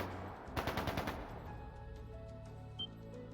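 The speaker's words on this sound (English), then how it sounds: "That sounded like gunfire." Video game gunfire from Trails of Cold Steel II cracks out in a quick burst of about six rapid shots, then fades into a lingering echoing tail and ambient tones, with one faint later report.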